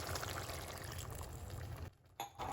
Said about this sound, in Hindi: इसके अंदर 1 गिलास पानी डालेंगे।